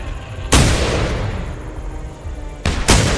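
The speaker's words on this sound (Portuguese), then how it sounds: "Atira na cabeça do dinossauro." Gunfire aimed at a dinosaur in the hunting video game The Hunter Primal: a loud blast opens, its noisy crackle sustaining and fading, then two more sharp shots close together near the end.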